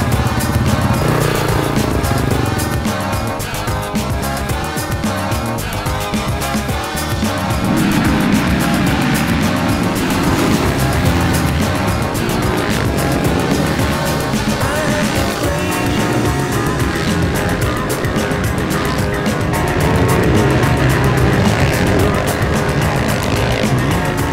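Motocross bikes race at a French championship in Castelnau-de-Lévis, their engines droning and revving loudly and continuously, with several machines blending into a constant roar throughout.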